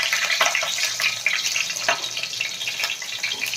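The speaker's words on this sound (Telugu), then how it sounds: "ఈ పచ్చిమిర్చిని ఇలా వేయించుకోవాలి" Green chillies fry in hot oil in a pan, giving a dense, continuous sizzle and crackle, moderately loud and close, without any speech.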